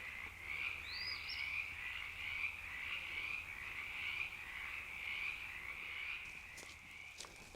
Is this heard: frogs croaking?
yes